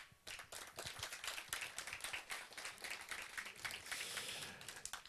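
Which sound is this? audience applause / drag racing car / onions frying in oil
audience applause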